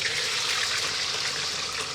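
Steady, dense hissing crackle fills the whole moment, like wet food sizzling loudly in a hot pan, as lamb koftas or potatoes fry, with no voices.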